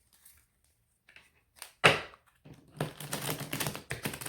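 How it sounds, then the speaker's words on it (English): Tarot cards riffled and shuffled in quick bursts, a sharp flutter followed by a longer papery rustle, close and with no voices. "One more shuffle."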